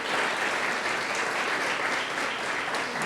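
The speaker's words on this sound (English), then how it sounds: "If he could stand up and a round of applause for Dave." An audience applauds a board member at an announcement event, a dense, steady, loud burst of clapping filling the room with no talk over it.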